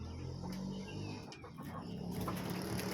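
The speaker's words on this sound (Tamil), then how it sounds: "இந்த செட்டுக்கே பெரிய சேவல்" Faint clucking and soft calls from a large rooster and hens, distant and low, over a steady background hum.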